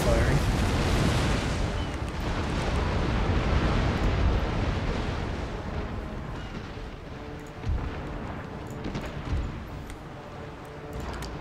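Warship cannons firing a broadside in the naval battles of Empire Total War: loud rolling booms at the start that fade into a quieter rumble, with a few sharper distant shots later.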